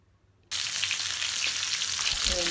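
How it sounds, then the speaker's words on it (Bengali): Rohu fish head hits hot oil in a pan and bursts into a loud, steady sizzle that continues without a break after a short quiet lead-in, with a faint clatter near the end. "এক পাশে করে উল্টায়া পাল্টায়া ভেজে নিব রুই মাছের মাথা"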